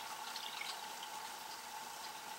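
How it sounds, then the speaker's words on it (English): Water pours steadily into a Stanley Basecamp camping cook pot up to the three-liter mark, a faint, even trickling fill with no talking. "So I'm just pouring the water up to this mark right here."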